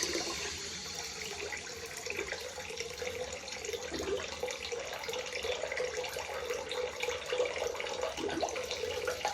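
Water runs steadily from a tap, a continuous splashing hiss as hands are wetted for rubbing in clay, with no talk.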